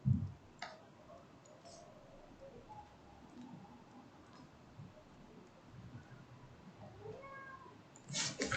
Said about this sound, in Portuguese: o gato vai ficar miando um tempão